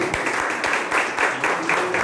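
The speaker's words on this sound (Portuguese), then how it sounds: "Você pode aplaudir ao Senhor?" A church congregation clapping during a service, a dense patter of hands with a faint rhythmic pulse, steady and fairly close, with no speech over it.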